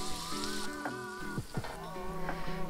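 Neutral oil and a slice of butter heat in a hot pan, a soft close sizzle with light spattering under steady background music.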